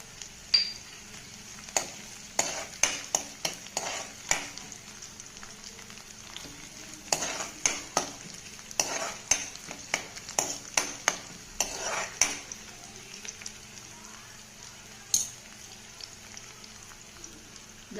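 Green chillies fry with garlic in a pan for idli manchurian, a soft continuous sizzle under frequent quick clinks and scrapes from stirring, with a brief pause in the middle.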